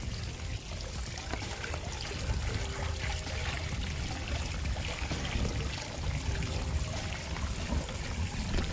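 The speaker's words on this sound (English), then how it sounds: "And I just found this little waterfall," A small waterfall at Sandals Ochi Rios resort in Jamaica trickles and splashes in a steady, broad wash of falling water with no voices.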